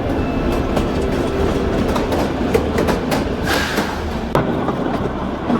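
Kalka Shimla toy train in Himachal Pradesh rolling steadily on its mountain track, a continuous rumble with clickety-clack wheel rhythm and occasional sharp clanks, close and loud throughout, no talking.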